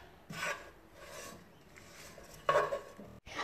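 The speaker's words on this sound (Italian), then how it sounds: "Adesso mescolo tutto." Chopped mushrooms, cherry tomatoes, spring onion, salt and paprika are stirred in a pan, giving a few close, raspy scrapes and rubs against the pan in short bursts with quiet gaps between.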